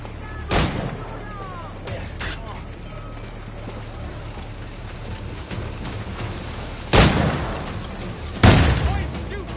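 Heavy gunfire and booming shots in a pirate-themed video game, loud sharp blasts at intervals over a steady background rumble, with no one speaking.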